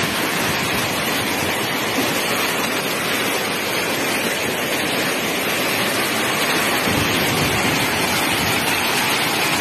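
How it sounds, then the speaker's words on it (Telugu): Heavy monsoon rain falls in a dense, unbroken roar of hiss lasting nearly ten seconds, loud and steady with no talk over it. "వర్షాలు కురుస్తున్నాయి."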